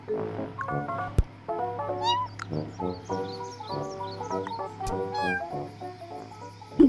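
Cartoon cat meowing repeatedly in the Sago Mini School pets game for kids, bright harmonic meows in a rhythmic series over a light musical backdrop.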